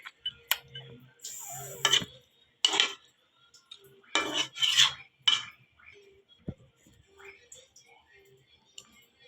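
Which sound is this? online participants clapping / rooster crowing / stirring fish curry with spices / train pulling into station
stirring fish curry with spices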